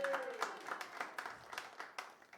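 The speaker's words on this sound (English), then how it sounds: "Hold your applause till we're all done." A few sparse, faint claps from an audience at a singer-songwriter competition finals, irregular single smacks over a quiet room, with a voice speaking.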